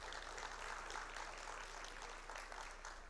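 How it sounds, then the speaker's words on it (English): An audience at an annual business conference claps for a panelist, giving a steady wash of applause with no pauses and no voices. "Let's give him a round of applause."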